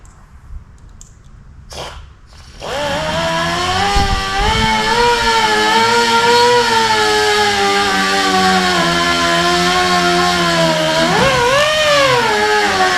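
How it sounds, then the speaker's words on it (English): A Dremel rotary tool grinding out metal mounts on a tub rack: after a few quiet knocks it spins up to a loud, steady high-pitched whine that holds close and constant, dipping and rising briefly near the end. "So I'm going to Dremel these mounts out"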